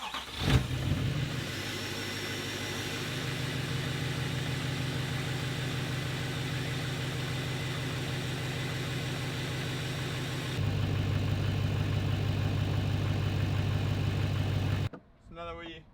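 A Duramax diesel truck engine, just fitted with a new fuel filter, turns over briefly, then settles into a steady idle that steps up louder partway through before being cut off near the end.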